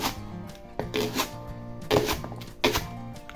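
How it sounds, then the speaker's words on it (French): A knife slices a leek into thin rounds on a cutting board, giving a run of distinct close, crisp chops in uneven bursts, with no voices. "Et le poireau, je vais le couper en tranches fines"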